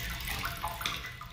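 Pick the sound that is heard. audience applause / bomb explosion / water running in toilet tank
water running in toilet tank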